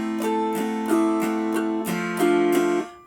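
An autoharp is played with a Travis picking pattern, thumb and fingers alternating bright plucked chord notes in a steady, even rhythm, close and clear with no talking, ringing out at the end.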